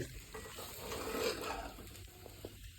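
Spices for a dhokla tempering sizzle and crackle softly in hot oil in a pan, a low, steady frying hiss with light stirring, heard from a short distance.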